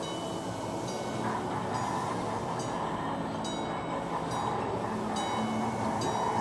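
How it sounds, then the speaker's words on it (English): A train rolls past inside West Edmonton Mall, a steady rumbling wash of wheels with faint high squeal and tones over busy indoor ambience, continuous and fairly loud. "Now we have a train going by."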